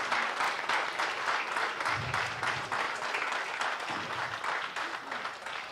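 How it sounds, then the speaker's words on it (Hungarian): A crowd applauds the organisers at a cultural event, sustained, fairly distant clapping of many hands with a few low murmurs underneath. "Egy nagy tapsot megérdemelnek ezért a munkáért szerintem."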